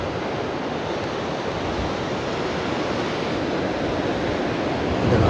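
Ocean surf at Watu Nene beach, seen from a cliff on the east side above white sand, rolls as a steady broadband wash of waves and wind that swells slightly louder at the end.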